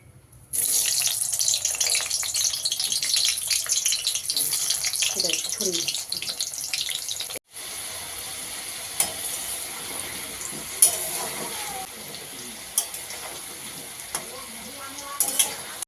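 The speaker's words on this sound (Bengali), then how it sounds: "নিয়েছি তেল, এবার আলু দিচ্ছি।" Potatoes dropped into hot oil in a pan give a loud, steady broadband sizzle near the mic, then a brief break and a quieter ongoing crackle with scattered pops and clinks.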